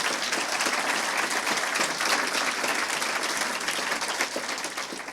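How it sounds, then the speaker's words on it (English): An audience claps steadily through a solidarity event in Atlanta, Georgia, the dense applause loud and sustained before easing off slightly at the end. "She deserves special applause from all of us."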